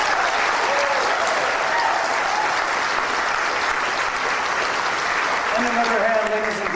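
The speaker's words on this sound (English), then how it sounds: "Ladies and gentlemen, can we please give a round of applause for Mr." An audience at a steampunk fashion show at a convention gives a sustained round of loud applause for the MC, with voices briefly audible under the clapping.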